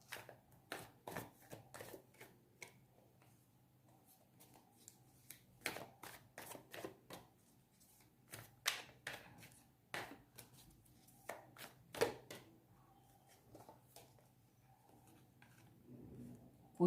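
Tarot cards shuffled and drawn by hand, a long series of crisp, irregular riffling and slapping bursts at close range over a quiet low hum, with no talking.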